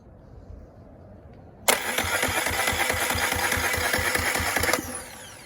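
A Suzuki 9.9hp/20hp outboard engine, suffering a fuel stabilizer problem, cranks for about three seconds in a loud, continuous rhythmic churn that starts abruptly and stops just as sharply, with no talk.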